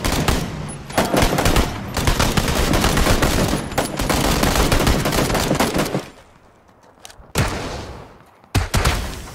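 Rapid, loud bursts of automatic gunfire in a video game, dense volleys for about six seconds, then a short lull broken by a few more sharp bursts.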